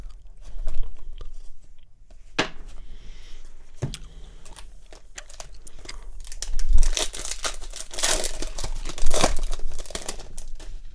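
Gum chewing up close, with soft wet clicks and smacks mixed with crinkling foil card-pack wrappers and rustling trading cards during a 2018 Topps baseball box opening, with intermittent bursts of crackle and no speech.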